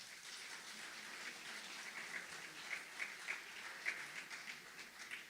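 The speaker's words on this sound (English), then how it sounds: "Let's give them a round of applause." Audience applause at a St. Croix Seventh-day Adventist School graduation ceremony, a soft, distant patter of many hands clapping steadily throughout with a few sharper individual claps.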